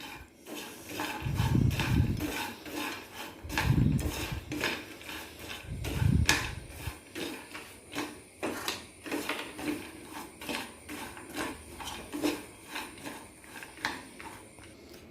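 Hot roasted peanuts being stirred with a spicy masala coating, giving scraping, clinking kitchen sounds with three heavier bursts of rattling early on, then steady lighter clatter throughout.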